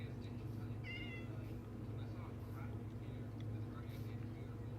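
A kitten in the Minecraft video game gives a few short, high meows early on, faint under a steady low hum of game background noise.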